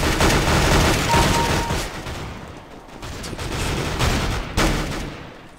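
Rapid gunfire from the video game CS:GO, several dense bursts of shots in close succession with one sharp report near the end, loud and up front with no talk over it.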